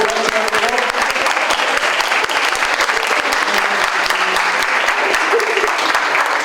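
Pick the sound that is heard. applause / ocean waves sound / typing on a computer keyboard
applause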